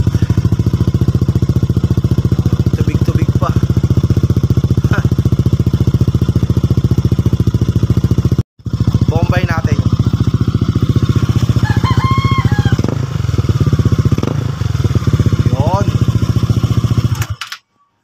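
A motorcycle called Rosie, fitted with an RS8 exhaust and a D1 radiator cap, idles loudly and steadily close by. The sound cuts out briefly, then resumes. A rooster crows in the background, and faint voices can be heard.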